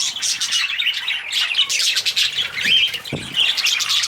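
A dense chorus of budgerigars in an aviary chatters and chirps continuously, busy and bright, with an occasional soft thump nearby.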